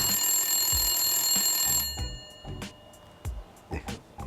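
A telephone rings loudly with a bright electronic tone for nearly two seconds, then cuts off, followed by a few soft knocks and thumps in a room.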